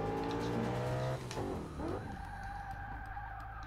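A car brakes hard from speed: a loud engine drone gives way to a sharp tire squeal as it skids to a stop, then a lower steady rumble continues.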